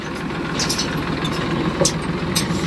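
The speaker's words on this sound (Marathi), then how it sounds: "चला गेला आता आमची इथला ट्रॅक्टर" A tractor pulls away from a muddy farmyard on a cold morning, its low engine chugging steadily and close by, with a few sharper knocks and clatters over the throb.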